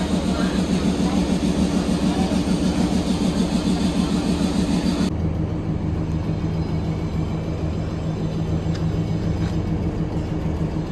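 A diesel multiple unit (DEMU) train on the Karur–Salem route in India rumbles steadily nearby with a low engine drone and rhythmic clatter, then shifts to a quieter, lower hum partway through.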